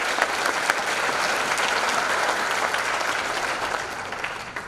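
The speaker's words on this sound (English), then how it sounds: "Please recognize these people with a round of applause." Audience at a school academic hall of fame ceremony giving a round of applause, a dense, even burst of clapping that holds steady throughout.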